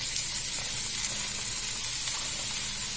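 Bitter gourd fries in a little oil in a pan, giving a steady, close sizzling hiss that continues without a break.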